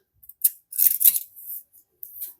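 Sharp scissors snip through fabric folded double for a hobo bag, a few crisp close cuts with brief pauses between them, no talking.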